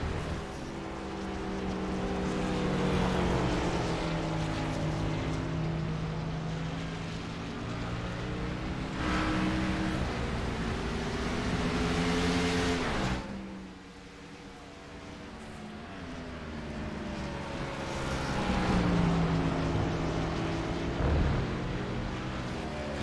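Race cars on track at the Glen, engines droning loudly with rising and falling harmonic pitch as cars shift and close on each other, a continuous roar that dips briefly mid-way and swells again.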